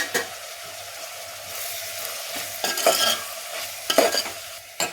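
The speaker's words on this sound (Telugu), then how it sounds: "మధ్య మధ్యలో ఉల్లిపాయలు అడగంటకుండా ఇలా తిప్పుకుంటూ ఉండాలి" Sliced onions frying in oil with turmeric and salt in a curry pan for an Andhra fish curry, giving a steady close sizzle broken by a few louder scraping stirs.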